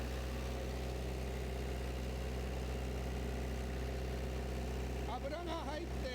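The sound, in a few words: engine running on heavy oil and water mix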